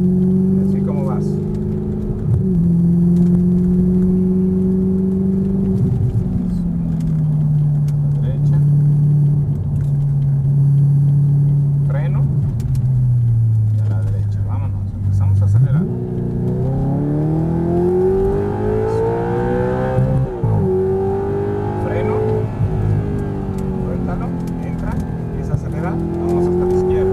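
Exotic sports car on a track, its engine holding a steady drone that dips, then rises sharply as it accelerates hard, with further revving and shifts. A nearby voice talks throughout.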